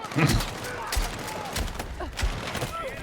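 Shotgun blasts in the first-person shooter Battlefield 6 land as a few heavy, booming shots spaced about half a second to a second apart, with game effects between them.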